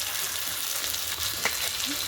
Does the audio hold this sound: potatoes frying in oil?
yes